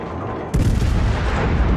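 Heavy naval guns of the warship Petropavlovsk fire in World of Warships, a sudden loud booming onset after quiet rumble, followed by sustained roaring reverberation.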